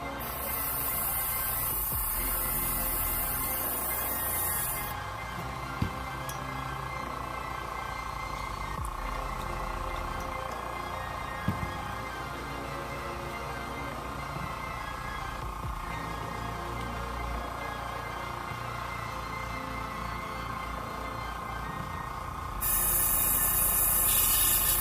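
An airbrush being cleaned gives sharp bursts of hissing air at the start and the end, with a quieter mechanical hum in between.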